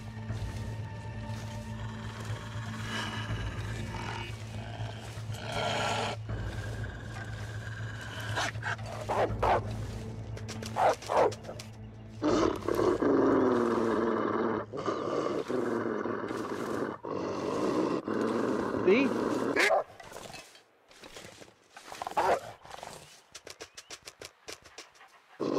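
A wolf in The Long Dark snarls and growls in low rough bursts, with an intermittent steady hum of a fire underneath; the growling swells loudest midway, then breaks into sharper scattered sounds toward the end.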